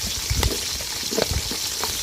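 Chopped capsicum dropped into hot oil in a pan for vegetable chitranna gives a brief, soft sizzle and crackle over a steady hiss, close by, with no voices.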